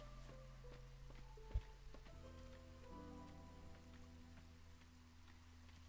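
Light drizzle patters steadily and softly on surfaces in the Against the Storm video game, a quiet continuous rain with one brief thump partway through.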